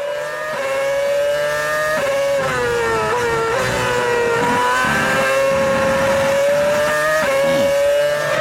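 Formula 1 race cars at the 2007 Bahrain Grand Prix scream past at full throttle, their high engine whine shifting pitch with gear changes and the loud, sustained roar filling the whole stretch.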